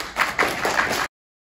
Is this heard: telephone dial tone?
no